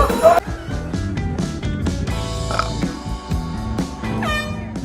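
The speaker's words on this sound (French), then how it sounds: "Mademoiselle Smith qui découvre le klaxon, tu vois." A loud, tonal horn honks in a classroom in short, repeated blasts over about five seconds, with other busy, layered sound close behind it and no clear speech.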